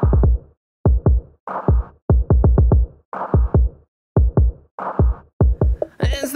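A heartbeat sound effect plays as loud, deep 808-style thumps in quick repeating clusters, with short pauses between groups, heard on its own with no voices over it.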